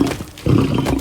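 A huge male lion in a big cat sanctuary, aggressive toward people, lets out a deep, loud roar close by, swelling into a heavier growling surge halfway through the second-long burst.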